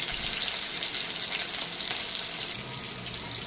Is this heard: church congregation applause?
no